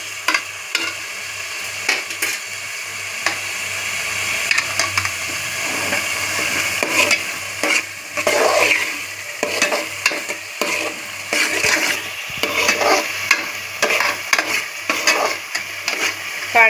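Chili powder sautés in hot oil in a pan, giving a continuous loud sizzle with intermittent scraping stir strokes, close up and without talk.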